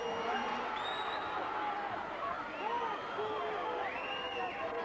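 Spectators at a 1989 ice hockey game between Whitley Warriors and Durham Wasps fill an arena with a continuous roar of chatter, calls and shouts, steady and fairly loud throughout.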